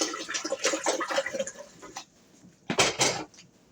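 Distilled water is poured over navy beans in a bowl, a splashing gurgle with clinks of dishware, a brief pause, then a second short pour.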